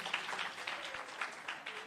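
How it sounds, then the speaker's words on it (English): Summit audience claps for honoured guests, a soft, even patter of applause in a hall, fairly faint. "let's give them a good round of applause"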